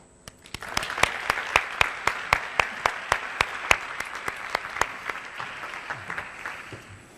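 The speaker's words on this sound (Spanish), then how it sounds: "dar un aplauso a estas 2 personas" Audience at a medical talk gives applause in a clear, evenly spaced rhythm of sharp claps, about twenty in a row, fairly close and alone, fading out near the end.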